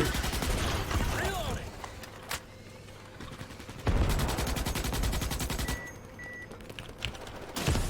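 Gunfire in the video game Starship Troopers: Extermination, with dense rapid automatic bursts and sharp individual shots, loud and close, pausing briefly between volleys, with a voice talking at moments.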